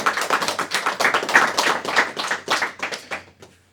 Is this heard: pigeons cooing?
no